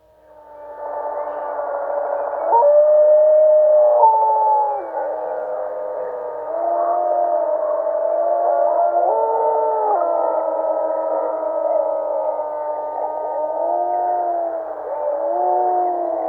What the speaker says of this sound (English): These are some of the first wild wolf howls in Yellowstone after 70 years of silence.